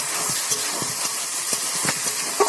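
Food sautéing and frying in a pan with salt for a Bengali recipe made from discarded ingredients: a steady, close hiss of sizzling oil dotted with small pops and crackles.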